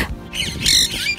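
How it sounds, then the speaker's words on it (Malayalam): Birds kept in an enclosure at a beach resort squawk and caw harshly in a few close, overlapping calls over a brief moment, with no talk. "ഇവരിവിടെ കിളികളെയൊക്കെ വളർത്തുന്നുണ്ട്."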